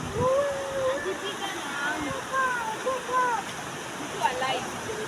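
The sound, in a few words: water flowing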